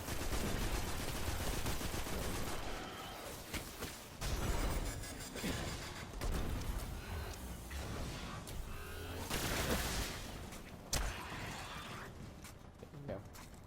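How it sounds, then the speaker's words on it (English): A fusion rifle, a charged energy weapon in Destiny, fires repeatedly in dense, loud bursts amid ongoing game combat noise, with a voice talking over the shots. "Now we're playing with what is called a fusion rifle, which is kind of like a charged shotgun way. It charges up and shoots like a couple beams out"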